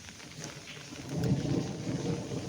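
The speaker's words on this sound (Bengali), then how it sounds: "বৃষ্টি তো প্রচণ্ড পরিমাণে হচ্ছে" Heavy rain at Azimganj station pours in a dense, steady roar, with a low rumbling swell building partway through and continuing to the end.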